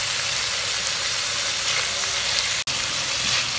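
Steady close sizzle of something frying in hot oil for haleem, a continuous bright crackling hiss with one very brief dropout near the end, no voices.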